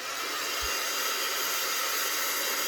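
Steady broadband roar of a heat tool warming part of a paper album page, continuous and loud for the whole stretch with no talking.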